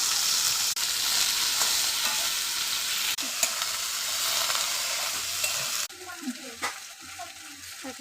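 Okra fries in a pan with a steady, close hiss of oil and occasional stirring scrapes, the sizzle dropping back partway through as the food is moved.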